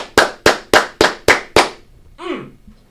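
Six sharp, evenly spaced claps ring out close and loud, followed by a brief voice.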